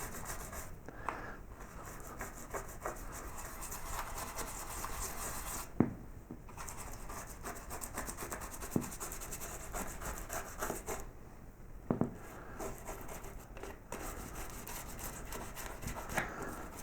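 Wax is rubbed by hand onto a carved wooden child's bedroom sign, making soft, repeated scrubbing and rubbing strokes that run quietly and continuously, with a few faint knocks.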